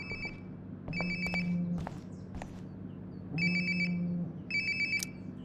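Phone ringtone in the video game Life is Strange: Before the Storm, two bursts of bright electronic ringing with a low buzzing tone beneath, repeating with a pause between, fairly quiet and alone with no talk.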